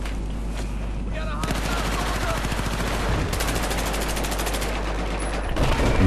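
Sustained automatic gunfire in Battlefield 4 during a clan war match, dense rapid bursts running almost unbroken and loud, with brief shifts in tone as weapons change.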